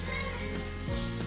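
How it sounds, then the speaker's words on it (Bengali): Chili and turmeric powder sizzling in hot oil as spices fry for a Bengali pui shaak dish, a steady bright hiss with a faint stirring scrape partway through, close and alone. "মশলাটাকে আমি একটু কষিয়ে নেব।"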